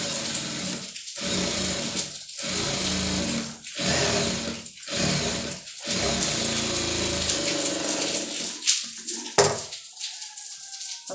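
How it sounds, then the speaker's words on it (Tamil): A sewing machine stitches over sleeve piping in bursts of steady whirring broken by short pauses, close and fairly loud, with a few clicks and handling noises near the end. "தையல் மேலே வந்து போட்டுக்கிறோங்க கொஞ்சம் பொறுமையாக தைக்கணும்"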